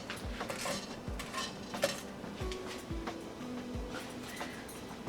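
Whole spices such as cloves, mace and nutmeg dry-roast in a pan over a low flame, giving soft clinks and light scraping taps against the metal at an uneven pace, quiet and close.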